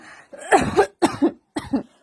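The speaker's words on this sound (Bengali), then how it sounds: "কাশিস না বউ কাশিস না" Three sharp coughs in quick succession, close and fairly loud, with short pauses between them.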